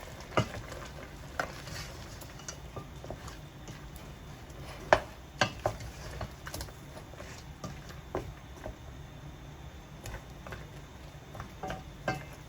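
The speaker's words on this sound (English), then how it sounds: "Gonna give it a stir." Jamaican curried goat being stirred in a pot, with irregular knocks and scrapes of a spoon against the pot over a low, steady simmer, no voices.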